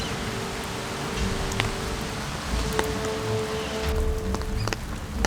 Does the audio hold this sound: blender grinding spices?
no